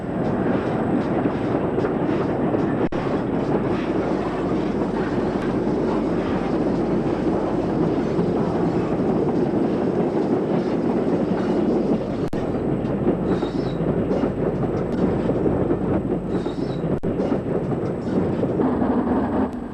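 The Flying Scotsman steam locomotive passes Budbrook near Warwick on a northbound run, giving a steady, loud, continuous rumble and roar of the train with rail noise and no speech.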